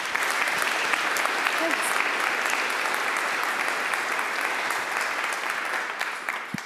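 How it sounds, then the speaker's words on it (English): Sustained, dense applause from a lecture audience greeting a speaker at a talk on populism and fascism, loud and steady throughout before tapering slightly at the end. "So please, a very warm applause for Hannah McHugh."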